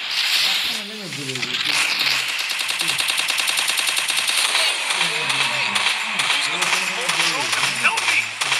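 Rapid automatic gunfire and sharp shots from the Free Fire video game, sustained and loud for most of the stretch, with a voice briefly talking at the start.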